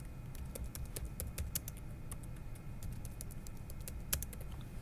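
Typing on a computer keyboard while filling in an MS Word table, with quick, irregular key clicks up close and fairly quiet, heard alone without talk.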